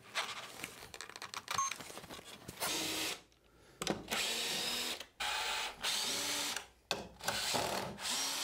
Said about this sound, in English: You can just drill through everything